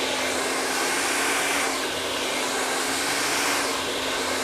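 A hair dryer runs continuously on high heat while blow-drying hair, a steady, loud, close whoosh of air with a constant motor whine and no pauses across the stretch.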